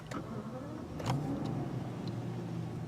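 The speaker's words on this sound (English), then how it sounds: "Of course you can barely hear it. It's a V12. It's smooth as silk." Rolls-Royce Wraith V12 starting from a push button, producing a very quiet, smooth, low hum with a brief slight swell near the start, steady and unobtrusive throughout.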